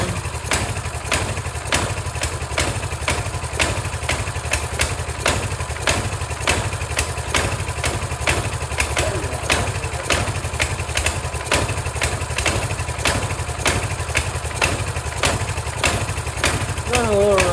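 A Coleman mini bike engine with a freshly rebuilt carburetor idles close by, running a little rough with a fast, steady chugging pulse that holds unbroken the whole time.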